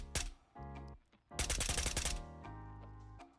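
XM250 machine gun fire in the video game Ghosts of Tabor: short rapid bursts of sharp, crackling shots, one dense burst in the middle, separated by gaps with a lingering low rumble, heard alone.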